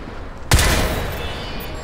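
Rapid gunfire in the shooter game Crysis 3, a sudden loud burst that smears into a dense, ringing wash of shots and echo, close and alone with no talk.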